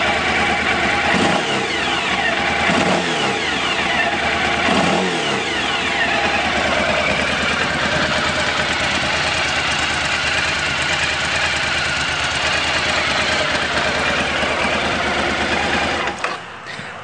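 A 2006 Suzuki V-Strom 1000 motorcycle engine runs steadily at idle, close and loud, with a brief rev near the start and no talking over it.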